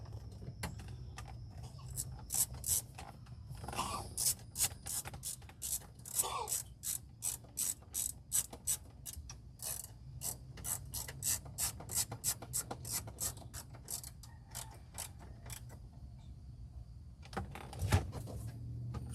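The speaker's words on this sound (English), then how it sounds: "1/4 inch ratchet out. Put screws in." A 1/4 inch ratchet drives dash screws in a 2004 Yukon Denali during a dash install, giving long runs of rapid, close clicking pawl strokes with brief pauses and a low steady hum underneath.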